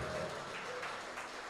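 A church congregation claps together in a continuous, dense wash of applause that holds steady throughout, heard from within the room with faint voices mixed in.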